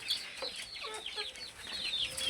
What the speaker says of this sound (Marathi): पूर्ण पक्षी प्युअर गावठी पक्षी आहेत आणि पूर्ण पक्षी तिखी खात आहेत